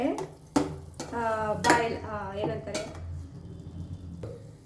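A spoon scrapes and clinks in a pan while tomato masala is stirred, with a few sharp metallic knocks and soft scraping under a woman's speech.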